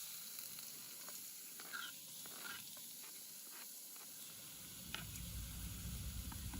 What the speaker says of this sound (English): After we put the oil, we'll put the onion like this.